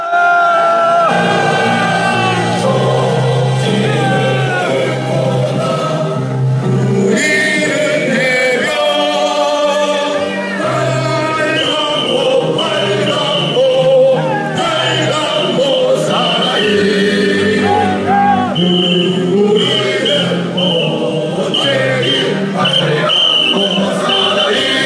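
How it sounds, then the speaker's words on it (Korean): Large crowd at a rainy street march through the city center, a dense, continuous roar of shouting and cheering with whoops rising over it, loud and sustained throughout, with voices calling out amid the din. "큰 함성 한번 주십시오"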